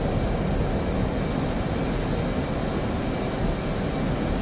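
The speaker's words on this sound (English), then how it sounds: "Man, this plane is slow." Steady droning engine of a WWII-era plane in flight during a naval battle game, a continuous broadband roar with no talk over it.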